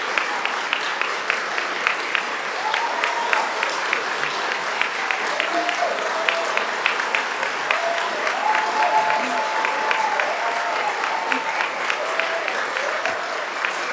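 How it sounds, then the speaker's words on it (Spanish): Sustained applause from an audience at a departmental assembly tribute honoring a former health minister, steady dense clapping filling the room with faint murmurs underneath. "Un aplauso."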